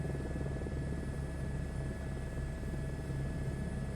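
A helicopter in Microsoft Flight Simulator 2024 drones steadily, a constant rotor and engine hum with a low throb, even in level and uninterrupted, with no voices.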